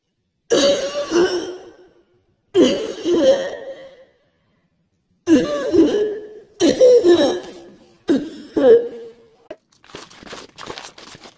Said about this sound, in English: That part where I was coughing